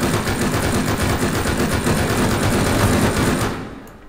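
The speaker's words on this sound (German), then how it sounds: "Na gut, dann schießt man ein bisschen" Sustained rapid automatic gunfire in the survival video game Rust, a dense, continuous rattling burst of shots that runs loud for about three and a half seconds before cutting off abruptly.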